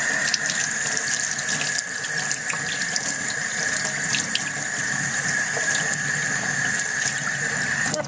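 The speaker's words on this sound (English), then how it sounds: "I'm going to rinse these off just for a second and rinse my hands off." A kitchen tap runs steadily while sweet peppers and hands are rinsed under it, giving a loud continuous hiss of water splashing into a sink, close by and with no talk.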